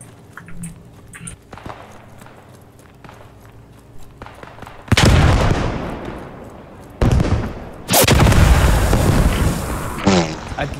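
Tank cannon blasts in the WWII shooter Squad 44 on the Velmolen map, two loud, heavy booms a few seconds apart that each roll into long rumbling decay, following quieter footsteps and distant gunfire.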